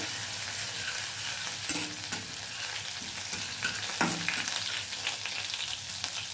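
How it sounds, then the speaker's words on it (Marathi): Ground green chili sautéing in a pan for a fasting recipe, with a steady, loud sizzle and occasional scraping stirs of a spoon up close. "जी मिरची मी वाटून घेतली होती ती टाकून घेऊया परतून द्यायची तिला"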